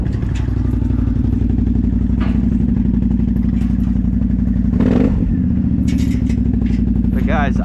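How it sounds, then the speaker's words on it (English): A Can-Am off-road vehicle's engine idles loudly with a throaty exhaust burble, rising in a brief rev midway, with people talking over it. "I just love this exhaust."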